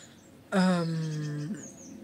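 A single drawn-out, harmonic call from a bird, about a second long, fairly close and clear above a quiet background, with no talking.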